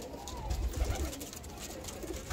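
Soft cooing from Kasuri pigeons sits low beneath steady background noise and faint outdoor bustle, with no clear talking.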